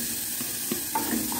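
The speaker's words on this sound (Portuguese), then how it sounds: "Agora vou colocar aqui, ó. A linguiça. Linguiça calabresa." Calabresa sausage and onion fry in a pan with a continuous, even sizzle and faint spitting, close and unbroken for a brief moment.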